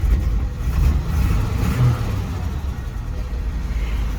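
An old four-wheel-drive vehicle's engine runs at a steady, low rumbling idle, close and continuous, with a faint voice in the background.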